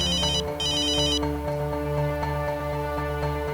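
A phone rings on an outgoing call, a steady electronic ringtone with a repeating melodic tone pattern and bright chiming bursts, heard alone and fairly loud.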